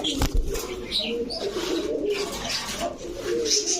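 Silver pigeons coo close by in low, throaty repeated calls, with light rustling and a few brief chirps among the birds.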